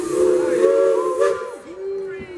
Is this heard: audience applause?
no